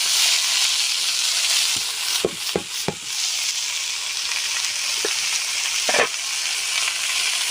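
Mustard greens hit hot oil in a village kitchen pan, giving a steady, loud frying sizzle throughout, broken by a few sharp scrapes and stirring knocks.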